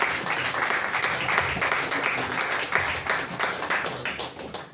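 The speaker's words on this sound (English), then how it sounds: "can we just take a minute to give Leone Stars a round of applause and Sierra Leone?" An audience applauds the Leone Stars, Sierra Leone's football team, with dense, sustained clapping that holds steady for several seconds before starting to fade.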